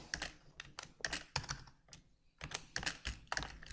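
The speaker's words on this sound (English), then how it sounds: "let's press spacebar 2-3 times" Quick bursts of keystrokes on a computer keyboard, with a few spacebar presses mixed in: close, crisp clicks in uneven clusters separated by short pauses, and no voices.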